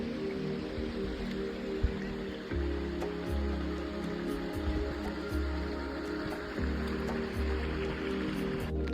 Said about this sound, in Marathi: या खळखळणाऱ्या पाण्यातून वाट काढत चालण्याची मजा काही औरच आहे